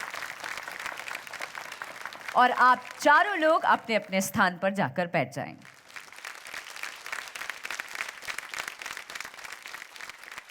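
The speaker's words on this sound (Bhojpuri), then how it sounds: "जोरदार ताली बजाइए" Studio audience applauding at a folk singing competition show, a continuous patter of clapping heard under a host speaking over it.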